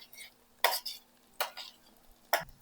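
Garlic and onion being sautéed in a pan for a beef creamy mushroom pasta, with three sharp bursts of stirring and scraping against a quiet background.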